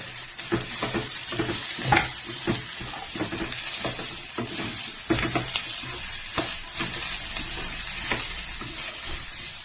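Onions fry in a pan for a padu recipe, giving a steady close sizzle broken by the occasional scrape and clatter of stirring.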